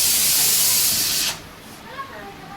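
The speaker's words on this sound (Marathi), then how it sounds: "इकडे तुम्ही बघू शकता कुकरमध्ये मी डाळ शिजत घातली चण्याची डाळ पुरण बनवण्यासाठी" A pressure cooker cooking chana dal for puran vents a loud, steady hiss of steam that cuts off abruptly partway through, leaving a quieter background with a faint brief whistle.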